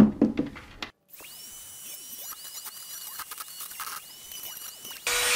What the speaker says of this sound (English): I've got this little itty bitty ball burr. We'll try that. It appears to be cutting the rivet nicely.